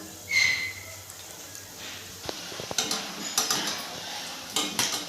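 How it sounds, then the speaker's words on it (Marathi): Bhaje fritters are dropped into hot oil one after another over a steady frying hiss, with scattered light clicks and clinks of a utensil against the pan. "अशा पद्धतीनं पूर्ण मी भजे सोडून घेते याच्यामध्ये"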